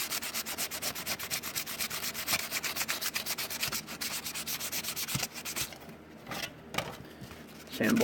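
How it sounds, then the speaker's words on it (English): A hard RC car body piece is sanded by hand, producing a steady, close rasp of rapid back-and-forth strokes that thins out and breaks up toward the end. "And since I'll be gluing this back down, I'll also need to sand this."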